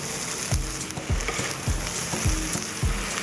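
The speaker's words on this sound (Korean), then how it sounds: "볶은 거를 한쪽에 모아놓고 계란 1개를 깨트려서 살짝 스크램블 해주고" Rice noodles and scrambled egg are stir-fried in a hot pan for char kuey teow, giving a constant loud sizzle broken by regular thuds and scrapes of the spatula roughly every half second.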